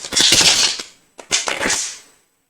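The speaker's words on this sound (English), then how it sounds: "Let me go ahead and shuffle these cards to make sure we get a good mix." A deck of cards being shuffled during a live card-reading session, two crisp riffling bursts of flicking cards separated by a short pause, close and fairly loud with no talk.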